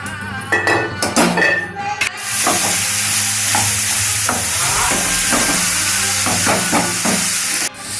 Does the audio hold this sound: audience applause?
no